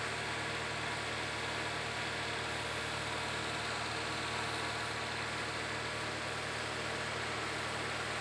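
A 2012 Nissan Livina engine runs continuously at a steady 2000 RPM, a constant droning hum with no voices.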